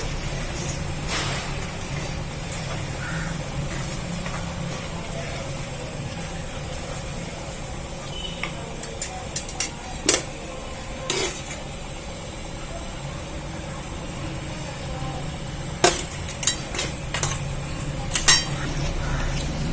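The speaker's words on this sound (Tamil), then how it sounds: "நல்லா எல்லாம் ஒன்று போல கிண்டணும்ப்பா" Cooked rice for biryani is stirred in a pot, with scattered metallic clinks and scrapes of a spoon against the vessel over a steady low background hum, growing busier toward the end.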